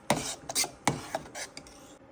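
Jaggery melting in a pan over a medium flame, stirred now and then: a few close, separate scraping strokes of a spoon across the pan bottom, with short pauses between them.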